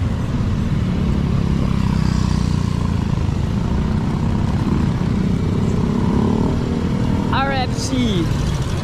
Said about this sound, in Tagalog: Yan na tayo sakay ng jeep.